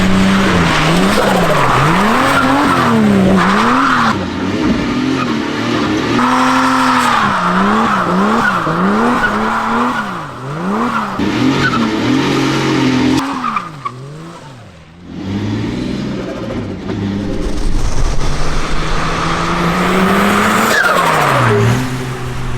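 A 2JZ-engined Ford Escort Estate does donuts, its engine revving in loud rising and falling waves while the tires squeal and skid continuously, close up, with no talking.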